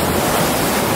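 Pacific Ocean waves coming in on a Hawaii beach, a steady, dense hiss of surf and rushing water filling the air, close and loud, no voices.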